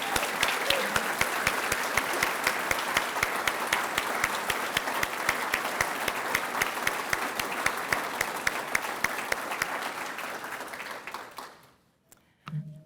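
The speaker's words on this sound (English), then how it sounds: "Let's give them a big round of applause." Sustained applause from a crowd at a police academy graduation ceremony, dense clapping holding steady for about eleven seconds before fading out, followed by a brief quiet pause.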